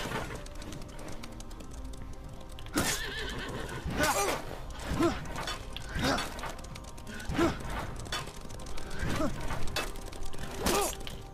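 A horse neighs and whinnies repeatedly in the video game Apotheon, several loud, sharp bursts spaced a second or two apart over a steady background of battle ambience.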